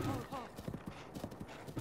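Horse hooves clip-clop in Breath of the Wild, a run of quick, light, regular footfalls with a brief whinny at the start, while a person talks over them.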